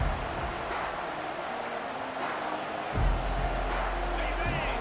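Stadium crowd at a college football game, a broad sustained roar of cheering and noise that swells louder midway and stays dense, with a commentator talking over it.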